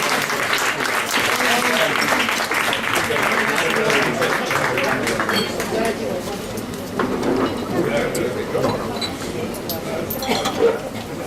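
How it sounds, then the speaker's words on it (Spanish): Audience applause in a café hall as a presenter is welcomed to the stage at a literary introduction, a full sustained clatter of clapping with faint voices and the odd clink mixed in. "Así que un aplauso para Montse."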